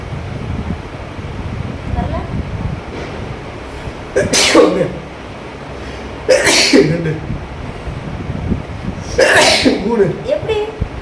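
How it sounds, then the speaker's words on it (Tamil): Three separate sneezes after sniffing chingini powder, at steady intervals of about two to three seconds, each a sharp loud burst close to the microphone over a steady windy background hiss. "ரெண்டு தும்மல் தான் வந்துருக்கு"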